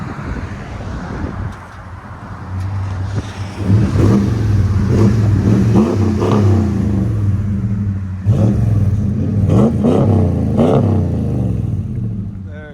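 A RAM 1500 Hemi V8 revs through a budget aftermarket muffler, a loud close-up rumble that climbs in repeated throttle blips and settles between them.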